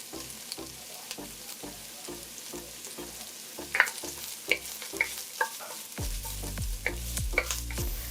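Hot pepper and serrano chilies fry in a pot with a spoon clacking in a steady rhythm, then a loud, sizzling hiss surges and holds near the microphone.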